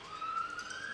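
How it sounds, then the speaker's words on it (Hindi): A police-style siren wails faintly in a Hindi audio drama, a steady rising electronic tone behind a low background hum, with no voices. "सायरन बजते ही"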